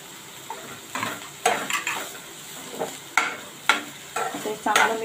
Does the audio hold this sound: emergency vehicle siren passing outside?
no